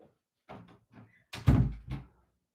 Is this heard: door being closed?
yes